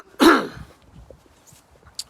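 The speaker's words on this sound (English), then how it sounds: "I just had to clear my throat" A single short, sharp throat clearing from a man sounds close up near the start, followed by quiet room noise with faint movement.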